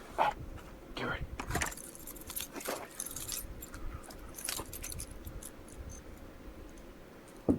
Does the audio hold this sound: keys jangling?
yes